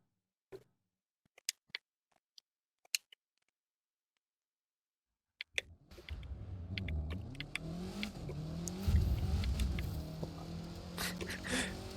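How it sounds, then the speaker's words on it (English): A car in The Crew 2 racing game starts up after a few sparse clicks, then its engine drones and revs steadily as it drives, rising and falling in pitch, loud and continuous with no talk. "let's find a road here and test out the handling of this car"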